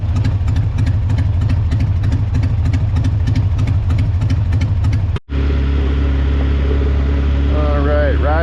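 Motorcycle engine droning steadily while riding on southern roads at sunrise, loud and continuous with wind buffeting, then a brief cut to a smoother, rising engine tone near the end.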